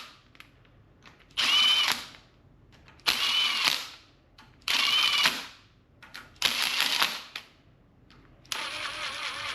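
Power tool snugging down bolts on a 2006 Subaru STI EJ257 engine build, five loud bursts of whirring rattle with short pauses between, close by and with no talk.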